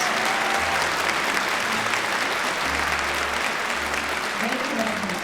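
A crowd gives a big round of applause welcoming HWPL chairman Man-hee Lee at a peace commemoration ceremony. Full, continuous clapping fills the hall, with low tones and murmuring underneath.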